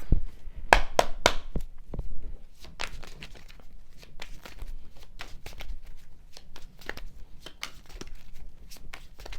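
Tarot cards are shuffled close by in a flurry of crisp flicks and riffles, loudest at the start and then settling into a softer, continuing patter.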